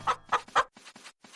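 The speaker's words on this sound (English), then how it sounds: "Catch the chicken and put it in the right coop." Cartoon chicken clucks from a children's learning game, three loud clucks in quick succession followed by softer, fainter clucks, with no talk.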